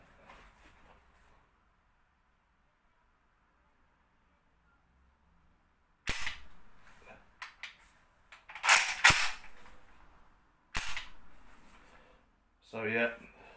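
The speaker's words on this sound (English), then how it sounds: "So you can rack it and dry fire it." Denix replica M1 Garand being racked and dry fired, sharp metallic clacks of the action and a snap of the trigger coming in short clusters after a quiet pause, close and crisp, with a brief voice at the end.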